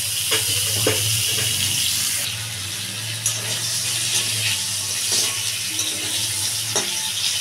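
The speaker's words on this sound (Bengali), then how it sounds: "পটলটাকে ভালো করে ভেজে নেবো" Pointed gourd (potol) fries in oil with a steady hissing sizzle, broken by occasional clinks and stirring scrapes close up.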